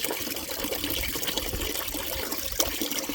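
Water flowing from a PVC pipe, a steady splashing gush with trickling detail that stays fairly even throughout, quiet and close, with a brief sharper splash near the end.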